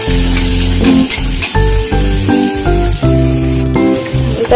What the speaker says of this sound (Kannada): ಫ್ರೈ ಮಾಡ್ಕೋಬೇಕು ನೀಟಾಗಿ